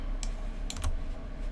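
A few quick keystrokes on a computer keyboard tap out in a short burst, near and fairly quiet, with a brief pause between the first press and a cluster of clicks.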